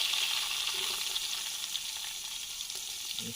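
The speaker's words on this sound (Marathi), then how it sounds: "कांदा जरा भाजून घेऊया चांगला" Chopped onion frying over a campfire at an overnight camp beside a creek, a steady, close, hissing sizzle with a faint occasional stir, heard alone.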